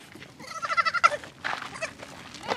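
Baby goats being weaned bleat loudly and angrily, a rapid run of harsh, wavering cries crowding the first second, followed by more scattered calls, fairly close and with no talking.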